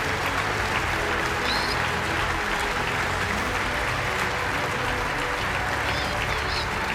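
A packed US Congress chamber applauds Zelensky at length while standing, the thick, continuous clapping of a large crowd holding an even level from start to finish, with a few faint voices mixed in.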